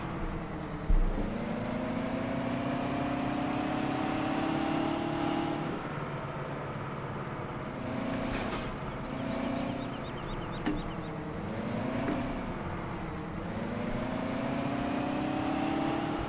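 A Big Bud tractor engine in Farming Simulator 17 drones continuously, its loud low hum rising and falling in pitch as the tractor is driven and moved about, with no speech over it.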